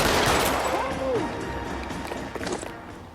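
Gunshots in the 1940s Los Angeles detective game LA Noire, a few sharp cracks heard amid dense game noise and a voice, loud at first then settling.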